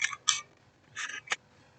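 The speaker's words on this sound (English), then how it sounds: "You're just going to cut that out the one you want, leaving a little bit of a border." Scissors snipping around a DTF sticker: four short crisp cuts in two quick pairs, close and quiet, with near silence between.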